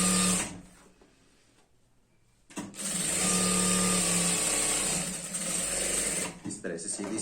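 Sewing machine running a straight stitch on a girl's skirt, a fast steady whir that stops briefly and then resumes for several seconds, with a voice talking over parts of it.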